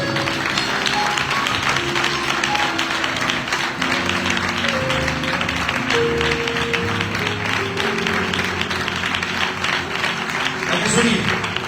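A church congregation at a Sunday service claps together in a dense, sustained burst that lasts the whole stretch, with a voice and a tonal backing carrying on underneath.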